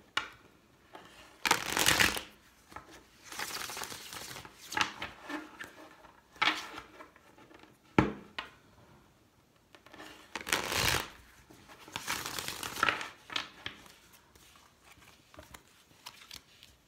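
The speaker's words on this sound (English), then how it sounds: "We get two more shuffles here" Tarot cards are shuffled in several bursts of riffling and soft slapping, close and fairly quiet, with short pauses between rounds.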